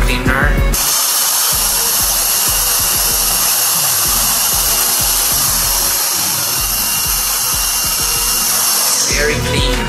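A Barber Nation Turbo Jet air duster gives a steady, loud blowing hiss of air almost without pause, starting and stopping abruptly, with faint handling noises underneath.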